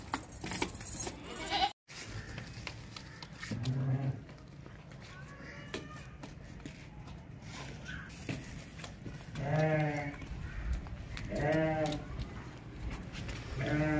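Sheep, including long-eared ones, and goats bleat in a livestock pen, several calls rising in a quick series near the end, with people talking under and between them and occasional clinking.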